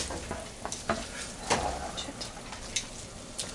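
Chicken pieces for fettuccine Alfredo get tossed in a hot pan, a quiet sizzle punctuated by several scraping stirs and soft clatters at uneven intervals.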